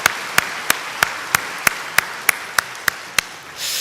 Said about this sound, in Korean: 우리 찬양대 관현악단 감사의 마음으로 우리 크게 박수하시겠습니다